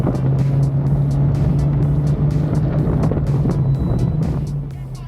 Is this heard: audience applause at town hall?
no